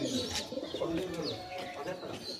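Pigeons coo softly in a busy loft, with chirps and rustling mixed in and a voice talking over the birds.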